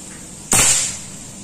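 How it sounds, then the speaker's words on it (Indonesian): A single sharp, loud report from a Predator bullpup air rifle firing a slug through its 40 cm seamless barrel, followed by a brief decaying hiss against a quiet hum. "Tembakan kedua."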